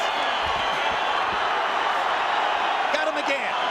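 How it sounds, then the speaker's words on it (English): Boxing crowd roaring after a knockout punch, a dense, loud, steady wall of cheering and noise from a packed arena, with a commentator's voice riding over it. "Crowd goes nuts."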